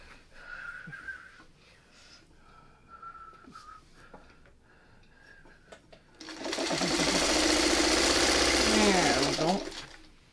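Sewing machine running steadily through a quilt seam on a Triple Irish Chain quilt, loud and continuous for the last four seconds, after quiet handling sounds and a few soft spoken words.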